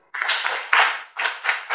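Audience at an outdoor health-promotion screening clapping in short bursts, a few hands striking in separate rhythmic rounds with brief gaps between them, close and moderately loud.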